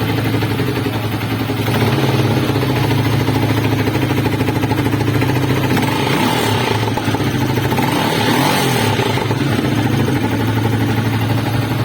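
A motorcycle engine, just kick-started after its kick return spring was replaced, runs at a steady idle throughout, a continuous mid-pitched drone close by with no talking over it.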